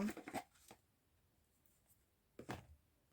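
Oracle cards being shuffled by hand during a reading, two short soft riffling bursts near the start and end, faint and close, with a quiet pause between.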